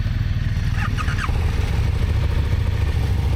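Police or gendarmerie motorcycle riding tight figure-eights through narrow gates on a training course, a close engine burbling steadily with a brief higher whine partway through, no talking.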